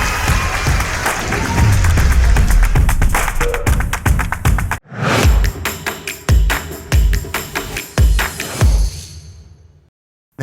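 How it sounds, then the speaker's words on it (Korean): A conference audience in Jinju gives an astronomer a loud, dense round of applause as he comes on stage. It thins into scattered separate claps and fades out after about ten seconds. "큰 박수로 맞아주세요"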